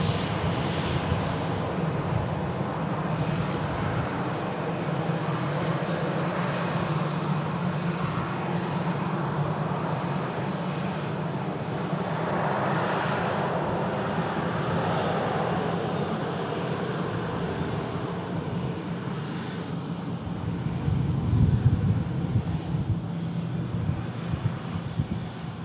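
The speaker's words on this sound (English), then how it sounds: "Another EasyJet arriving in from Milan in front of us." EasyJet airliner arriving from Milan, its engines a steady broad roar that holds near-constant through the whole stretch, swelling slightly toward the end as the jet passes, heard outdoors with no voices.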